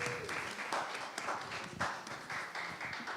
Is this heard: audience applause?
yes